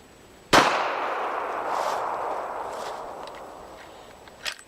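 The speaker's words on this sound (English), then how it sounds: "First one's going to be 45 ACP, then 460 Rowland. 45 ACP, jacketed hollow point" A single loud, close .45 ACP pistol shot, a 230-grain jacketed hollow point fired into a water jug, gives a sharp crack that rings out in a long decaying tail, with a faint click near the end.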